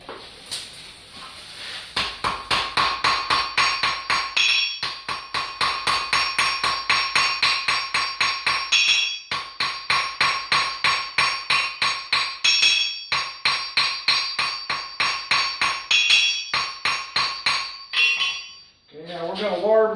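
Hot steel being hammered on an anvil to forge weld a basket twist Christmas ornament, a long run of loud, rapid, ringing metallic blows in steady rhythm with brief pauses between bursts.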